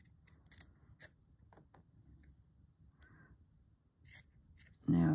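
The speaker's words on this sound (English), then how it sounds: "Cut them out." Scissors snip out small fabric hand shapes traced for a stitched angel figure, several short crisp cuts scattered through soft background noise, close and fairly quiet, ending in a louder burst.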